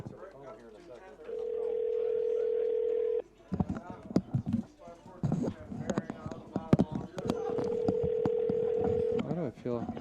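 A telephone call rings out: a steady ringback tone sounds for a couple of seconds, gives way to clattering handling noise and voices, then the tone rings again; people talk in between.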